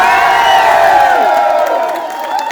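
A large outdoor crowd at a live show cheers and whoops with a loud, dense roar. Bright shouting voices rise and fall and clapping sits underneath, all fading slightly toward the end.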